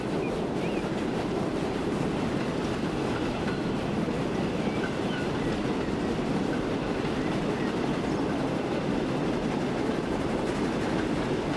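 An express Pullman train in Transport Fever 2 rolls along in a steady, dense rumble with faint rhythmic clatter from the wheels, continuous and unchanging throughout.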